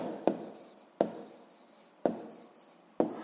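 Pen or chalk writing out a physics exercise, close and quiet, in four short bursts of scratchy strokes, each starting with a sharp tap, with no talking.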